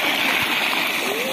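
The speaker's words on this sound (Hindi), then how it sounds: "और इधर ही देख सकते हो, पानी चल रहा है" Irrigation water flows through a farm field of onion, garlic, peas and wheat in a continuous close splashing, gurgling rush, with speech faintly underneath.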